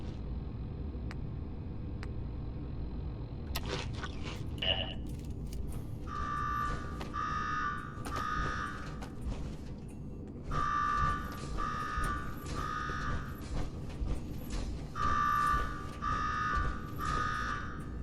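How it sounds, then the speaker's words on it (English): An alarm rings in the game Fallout 4, repeating in pulsing electronic bursts in two long groups over a steady low background hum, with no one speaking. "Go shut off that damn alarm."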